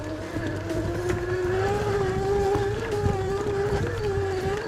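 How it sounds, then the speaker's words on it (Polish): The electric motor of an Eleglide M1 Plus e-bike whines steadily while climbing a hill, a loud, close, sustained hum with a faint rise in pitch and road noise beneath. "Silnik jest dosyć głośny."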